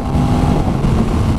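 Aprilia RS660 A2 sport motorcycle accelerating hard with quickshifter gear changes, a loud steady engine drone close to the microphone, mixed with rushing wind.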